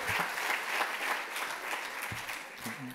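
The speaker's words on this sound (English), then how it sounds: "I would like for a round of applause for our friend Hannah" Warm applause from delegates at a Model United Nations closing ceremony, a dense, steady patter of many hands at moderate volume.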